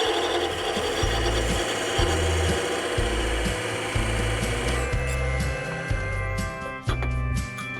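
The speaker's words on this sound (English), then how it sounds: "the next stage is to cut this piece for the lid and the bottom of the box." A hand saw cuts a wooden piece for the lid and bottom of a small lidded box. Loud, close, steady back-and-forth rasping strokes keep a regular rhythm throughout, with no talk.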